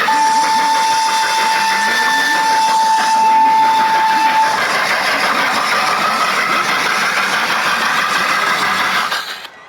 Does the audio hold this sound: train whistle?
yes